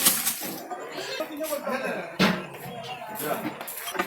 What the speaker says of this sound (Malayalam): അരി ഇടുകയാണ്.